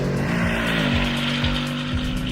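A 2020 Ford Mustang GT's naturally aspirated engine revs and pulls hard, its tone climbing through rapid upshifts in a loud, close, sustained roar with no talking.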